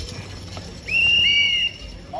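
At a draft horse pull, a horse gives a short whinny-like squeal over a low background of hooves and voices, with people talking nearby.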